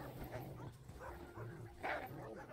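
Faint whimpers and yips from the sled dog Barkley in The Red Lantern, heard in a few short bursts over a low, muffled background.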